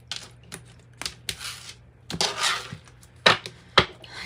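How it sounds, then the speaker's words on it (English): A deck of tarot cards is shuffled and cut, giving crisp riffling and slapping bursts at an uneven rhythm, close and fairly quiet, with no talking. "One more shuffle, and then we will cut the deck."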